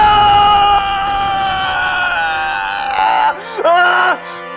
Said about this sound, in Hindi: ये तेरे पोते की चीख थी